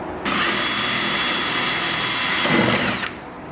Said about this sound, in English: So now I've got one hole drilled